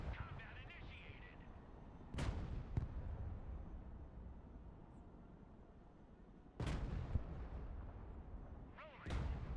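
Heavy vehicle cannon fire with kinetic ammunition in the Broken Arrow strategy game, three sharp booming shots spaced across a rumbling battlefield background with distant engine and combat noise.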